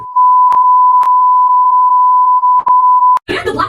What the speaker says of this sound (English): Oh, the censorship beeps.